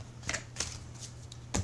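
Tarot cards being shuffled by hand, a few quick riffling bursts close to the microphone over a low steady hum, with no talking.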